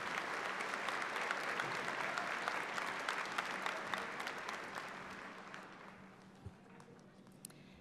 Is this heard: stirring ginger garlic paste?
no